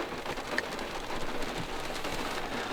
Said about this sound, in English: we can't get out because it's raining